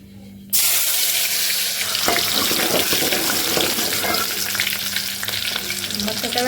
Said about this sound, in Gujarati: વઘાર કરી નાખી ફટાફટ